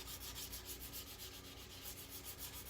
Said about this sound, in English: I'll start sanding.